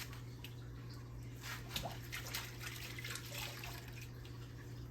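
About half a cup of boiling water pours in a soft, continuous stream, splashing gently into thick chocolate cake batter at a moderate distance.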